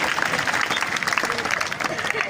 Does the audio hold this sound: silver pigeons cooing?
no